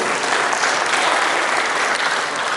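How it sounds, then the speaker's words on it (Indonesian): Sustained applause from an audience at a government and Grab small-business digitalisation event in Padang, a dense, steady clatter of many hands clapping without a break. "Aplaus dulu."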